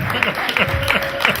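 An audience at a bitters product launch in Benin City claps briefly for the speaker's husband, with a short burst of crowd clapping and voices mixed in.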